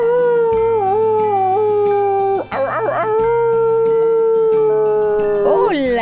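A voice imitates a dog howling in long, sustained wavering howls, loud and close, with a brief yipping break in the middle and a rising howl at the end over a soft musical backing.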